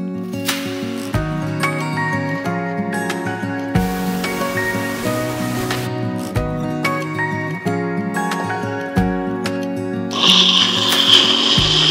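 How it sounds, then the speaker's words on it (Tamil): A mixer grinder blending mango pieces for jam whirs and grinds in repeated loud bursts, its pitch rising and falling as it runs, stops briefly, and restarts several times. "இதெல்லாம் மிக்ஸி ஜாரில் போட்டு அரைச்சி எடுத்துக்கலாம்."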